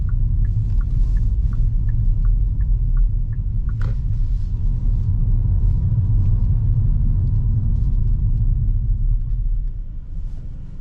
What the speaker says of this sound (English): Nice clicking sound of the indicators.